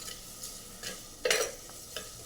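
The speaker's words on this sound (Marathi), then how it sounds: "अशा पद्धतीने छान कांदा आपण लालसर परतून घेऊया." Onion is sautéed until reddish in a clay handi pot for veg pulao, with a soft steady sizzle broken by a few close scraping stirs of a spoon against the pot.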